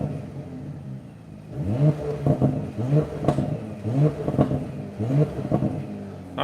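A 2021 Porsche Panamera revs against a 3,000 RPM soft limit while parked, its exhaust crackling and burbling in repeated bursts, moderately close and heard from outside the car with no talk.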